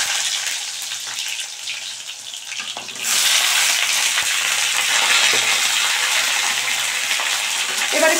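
Chopped tomatoes drop into hot oil tempered with nigella seeds, and a loud, steady sizzle of frying fills the pan after a quieter start, with no talking over it.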